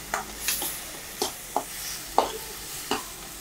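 Drumstick leaves with turmeric sautéing in a pan, a soft steady sizzle broken by about six sharp scraping stirs of a spoon at irregular intervals.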